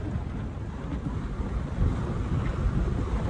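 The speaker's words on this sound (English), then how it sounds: "The wind has just dropped a little bit." Strong wind buffets the microphone aboard a sailboat at sea, a steady, loud, rumbling roar with slight surges and no pauses.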